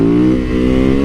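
Yamaha VMAX motorcycle with its V4 engine revving, a steady loud close rumble holding a strong harmonic drone with a slight dip and rise in pitch.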